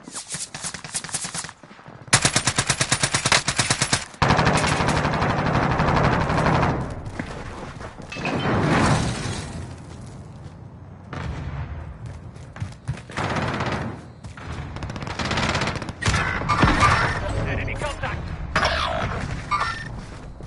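Gunfire aimed at the player in Call of Duty: Warzone: loud, close automatic bursts and rapid volleys, some long sustained strings of shots, broken by short silent pauses and quieter stretches.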